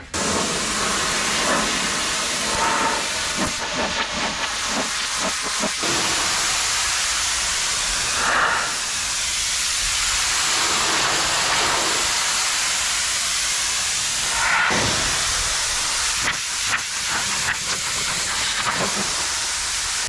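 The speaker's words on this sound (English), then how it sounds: "Good opportunity to try out the wall-mounted pressure washer." A wall-mounted pressure washer sprays steadily in a basement for about twenty seconds, a loud continuous hiss that shifts briefly as the spray moves across surfaces.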